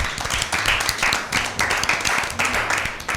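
A studio audience at an Easter Bible quiz show claps in dense, close applause after a contestant's correct answer, swelling in waves throughout.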